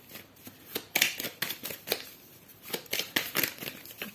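Tarot cards shuffled by hand in a series of quick, crisp riffling bursts and slaps, close and fairly quiet, with no talk over them.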